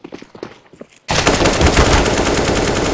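Rapid automatic gunfire in a video game bursts in suddenly after a moment of quieter footsteps and clatter, then continues as a loud, dense, sustained volley.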